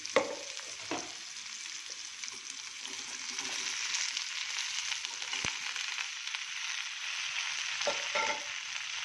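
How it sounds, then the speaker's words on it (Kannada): Finely chopped okra frying in oil in a pan, a steady close hiss of sizzling with occasional soft scrapes and taps from stirring, no talk. "ಇದು ಎಣ್ಣೆಯಲ್ಲಿ ಚೆನ್ನಾಗಿ ಫ್ರೈ ಆಗಬೇಕು, ಚೆನ್ನಾಗಿ ಬಾಡಲಿ."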